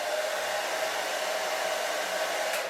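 A hair dryer blowing steadily at close range, drying glue on hair, a continuous even whoosh with no voices.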